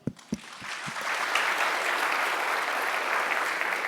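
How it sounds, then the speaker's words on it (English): A conference audience breaks into applause, beginning with a few separate claps that quickly swell into a full, steady ovation that fills the room and holds for several seconds. "Let's give him a round of applause."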